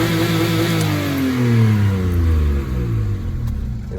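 A Citybug car (C1/107/Aygo type) engine revs hard with the accelerator pedal wedged to the floor, pitch sweeping up and down through loud, close, strained bursts of revving.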